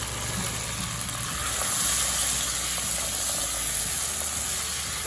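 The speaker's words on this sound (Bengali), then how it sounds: "এই মশলাটা আলুর মধ্যেই কিন্তু তেলের মধ্যে আমি ভালো করে ভেজে নেব" Spice paste frying in oil with potatoes, chopped tomato and peas for a Bengali cauliflower curry, giving a steady close sizzle and hiss that holds at an even level throughout, with no talk.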